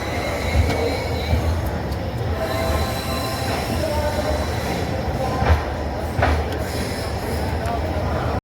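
A passenger train rolls into Benares station late at night, its wagons rumbling steadily with wheel squeal and clattering track noise throughout, loud and close from inside the carriage.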